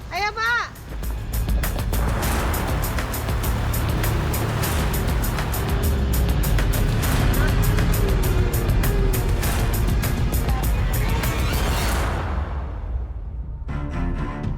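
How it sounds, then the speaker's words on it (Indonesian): A car crossing a landslide-damaged road where half the roadway is shored with large timbers, engine rumbling and tires grinding steadily for several seconds, with voices talking over it before it cuts off. "Kita lihat mobil satunya akan melintas ke situ."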